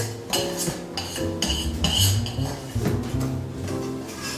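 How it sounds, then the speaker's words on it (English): A spoon stirs a thick, pasty mix of Rice Krispies, peanut butter and sugar in a pot, with repeated close scraping and clinking of utensil against metal in an uneven rhythm. "you want everything mixed together, and you want it to end up being like a thick paste almost."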